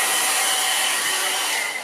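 A hair dryer blows steadily and loudly at close range, drying watercolour paint on paper with a constant whooshing roar and no voice over it.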